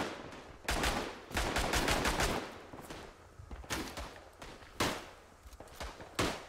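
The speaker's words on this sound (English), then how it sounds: "Oh, okay, Germans are shooting at me also." Gunfire in the World War I shooter game Tannenberg, German troops firing in bursts of sharp cracks and rattling volleys, several loud clusters separated by brief quieter gaps.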